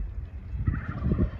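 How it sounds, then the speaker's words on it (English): Egyptian goose calling beside a farm pond, a few honking, gobble-like calls rising over low rumbling background noise near the end of the short stretch. "And the Egyptian goose, or the Egyptian geese, you can hear it."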